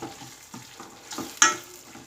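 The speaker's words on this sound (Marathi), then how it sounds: "आता यामध्ये आपण हे बटाटे टाकून घ्यायचे आहेत आता याला व्यवस्थित असं मिक्स करून घ्यायचं आहे" Small potatoes stirred into softened tomato masala in a pan, soft scraping and a gentle sizzle with one sharper clink of the spoon against the pan, close and fairly quiet.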